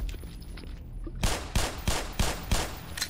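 Gunfire in the video game Black Mesa: after a quiet moment, a rapid series of about six loud, evenly spaced shots cracks out close by.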